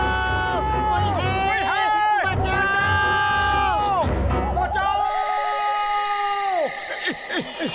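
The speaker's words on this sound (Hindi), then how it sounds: "जोर जोर से चिल्लाओ" Animated Motu Patlu cartoon characters shout loudly for help, several voices yelling and wailing over one another with swooping music-like tones, a crowd-style clamor that drops off near the end.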